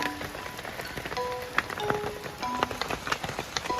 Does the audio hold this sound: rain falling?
yes